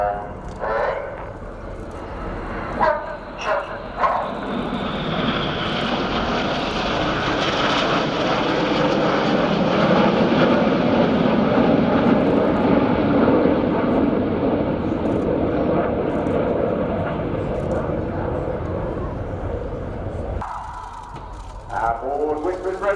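Red Arrows jets at the RIAT 2019 air show display, engine roar swelling from distant to a loud, sustained rushing pass overhead before fading, with crowd or commentary voices faintly at the start and end.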